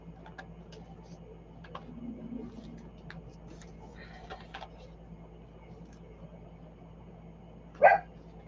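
A dog, apparently a small pet, gives a single sharp, loud bark near the end, set against a quiet room with faint rustling of papers and background hum while storage locker ephemera is sorted.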